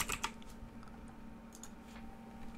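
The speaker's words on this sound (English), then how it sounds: "So I'm just going to type in my information." Quiet clicking of keys on a computer keyboard, a quick cluster of taps followed by sparser keystrokes, close and alone with no talking.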